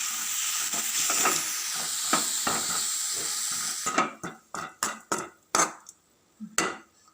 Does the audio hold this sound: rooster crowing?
no